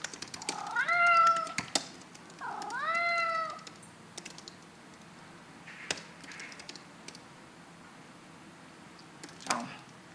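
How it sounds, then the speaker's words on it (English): A cat in an indoor workspace gives two clear, drawn-out meows in quick succession, close and fairly loud, followed by scattered clicks of typing and light tapping on a computer keyboard. "I hear you, cat."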